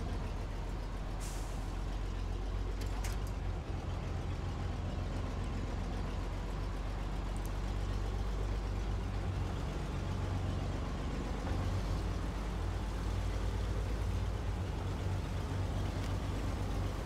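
A Western Star 6900 Twinsteer truck in the SnowRunner video game hauls heavy trailers, its deep engine drone steady and continuous, with a brief hiss of air brakes near the start.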